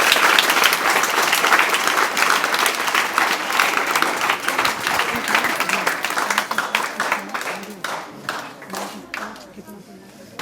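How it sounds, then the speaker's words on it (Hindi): Audience at a student award ceremony breaks into sustained clapping that gradually thins and fades, with a voice talking over the crowd in places. "शिवम के लिए एक बार जोरदार ताली बजा दीजिए यहीं से"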